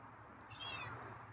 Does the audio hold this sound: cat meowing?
yes